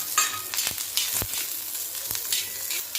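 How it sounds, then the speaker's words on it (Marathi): Halved onion, sliced lengthwise, roasting in a pan for a bitter gourd curry, giving a steady soft sizzle with a few sharp clicks and scrapes, close and alone. "इथे मी अर्धा कांदा कट करून घेतलेला आहे लांबाचा ते पण भाजून घ्यायचं आहे"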